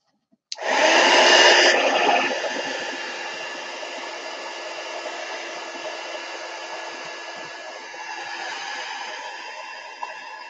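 A hair dryer blasts onto paint on a mixed media art piece, switching on abruptly with a loud rush that settles into a steady, slightly quieter whir for the remainder.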